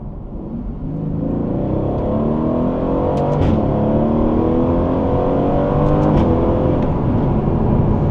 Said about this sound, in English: wait till the RPM goes almost up to the red line to shift, and that looks something like this